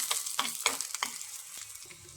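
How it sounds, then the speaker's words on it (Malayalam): Chopped garlic and small shallots frying in oil with a dried red chilli, stirred in a pan: a few quick scraping stirs over a light sizzle, close by, tapering off toward the end. "ഉള്ളി ബ്രൗൺ നിറമാകുമ്പോൾ അതിലേക്ക് 3-4 വെളുത്തുള്ളി അരിഞ്ഞത് ഇട്ട് കൊടുക്കാം"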